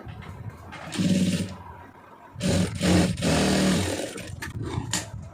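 An electric sewing machine stitches a strip of fabric in short motor bursts, whirring and stopping twice with a quieter hum between runs, close by with no speech.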